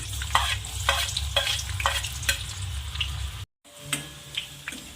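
Chopped onion frying in hot oil with mustard seeds in a pan for Maharashtrian shev bhaji: steady close sizzling with repeated scrapes and stirring knocks, a brief gap, then more sizzle and stirring.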